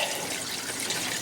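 Water runs over the roots of a plant lifted from an aquaponic garden, a loud, close, continuous rush and trickle with no break.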